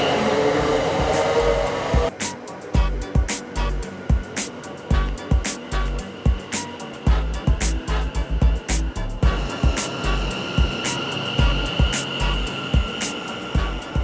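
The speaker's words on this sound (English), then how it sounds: "And the train's going." A train rumbles and clatters nearby, wheels clicking rhythmically over rail joints as it pulls away on Birmingham's Cross City Line toward Selly Oak, with a steady engine drone underneath.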